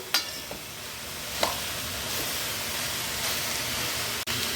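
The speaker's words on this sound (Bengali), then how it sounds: "তো এটাকে আমি ভালো করে নাড়াচাড়া করে ভাজা ভাজা করে নেবো একটু।" Cabbage and chhana being stirred and fried in a pan produce a steady, fairly loud sizzle, with a few scraping stirs at the start and a brief dip near the end.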